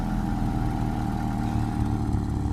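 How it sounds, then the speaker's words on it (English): Old GM four-cylinder engine in a 1991 Pontiac Sunbird after a cold start, giving a low steady rumble at idle, moderately quiet and continuous over a short stretch. "She's old GM 4-cylinder. But she's got a little rumble."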